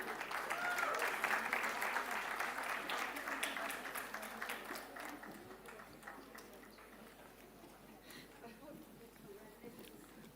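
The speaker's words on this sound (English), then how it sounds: "Requesting everyone to keep clapping." An audience applauds at a convocation ceremony, with dense clapping loudest at first that gradually thins and fades while a voice speaks over it.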